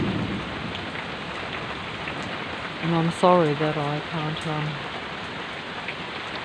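A thunderstorm pours heavy rain in a constant broadband hiss from start to finish. A voice speaks briefly in the middle over the downpour.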